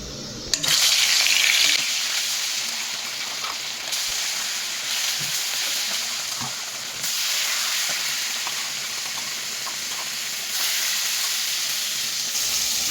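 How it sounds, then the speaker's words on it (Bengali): Fish pieces slide into hot oil, setting off a sharp burst of sizzling that settles into a steady hiss and crackle, with a few faint clinks along the way. "এবার কিন্তু মাছগুলো একটা একটা করে মাছগুলো দিয়ে ভেজে নেব"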